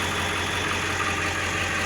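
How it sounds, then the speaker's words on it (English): Steady, close rumble of a 1999 Ford F350 Super Duty XLT diesel pickup engine idling, continuous and even with no talk. "Never heard a diesel truck before."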